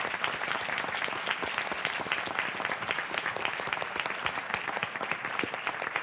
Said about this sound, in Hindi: जोरदार तालियों के साथ मैं स्वागत करना चाहूंगा पिंक ब्रिगेड का